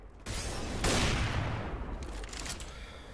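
AK rifle fire in a Counter-Strike match pops as a quick burst over a dense, roaring wash of in-game noise, moderately loud, then fades into softer rumbling.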